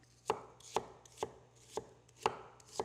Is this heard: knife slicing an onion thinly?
yes